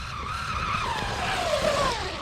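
Traxxas Jato 4x4 VXL 4S RC car driving fast at full throttle, a high whining motor pitch sweeping downward under steady tire and gravel noise, continuous and close.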